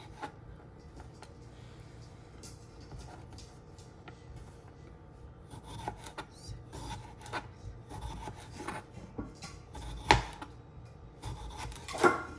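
Knife cutting food into thin, even slices for sandwiches, a run of soft rasping strokes that grow louder and more distinct, ending in a few sharp taps of the blade on the board.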